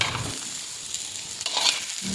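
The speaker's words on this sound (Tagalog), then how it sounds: "Pagkatapos nun ay binalik ko na rin yung patatas sa kaldero." Potatoes being stirred back into a cooking pot of asado, a steady close sizzle with scraping stirring noises and no talk.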